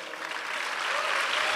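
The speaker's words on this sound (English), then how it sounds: "Big applause again for Woz." Audience applause at a Steve Wozniak talk on the founding of Apple, a steady wash of many hands clapping that holds and swells slightly throughout, with no voices over it.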